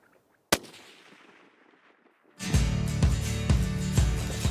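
A single sharp rifle shot rings out at a mule deer buck in New Mexico, loud and close, followed by a long fading echo and then heavy wind buffeting the microphone.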